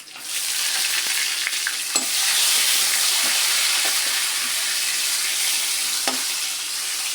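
Tomatoes and onions sauté in hot oil in a pan for a drumstick kara kuzhambu curry, giving a loud, steady sizzle with a few faint clinks from stirring.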